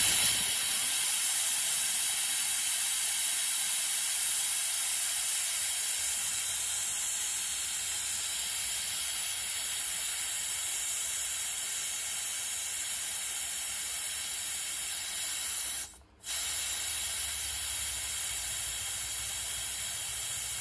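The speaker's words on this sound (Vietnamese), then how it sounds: "xả hơi thì mình bật cái nút này qua nha" Steam hissing hard and steadily from the valve of a 6-litre Tefal pressure cooker being vented, a loud continuous close jet that cuts out for a moment near the end and then resumes.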